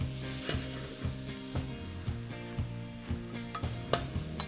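Mushrooms sizzle in a pan sauce after a pinch of salt, a close crackling fry broken by regular stirring and scraping of a utensil against the pan, with no talk.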